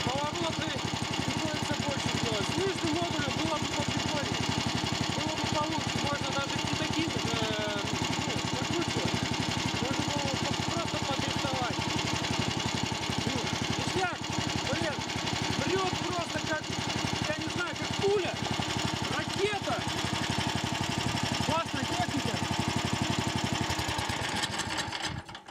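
A Lifan four-stroke engine on a motorized snow tow rig idles steadily and fairly close, with a constant mechanical drone running the full length, outdoors on snow.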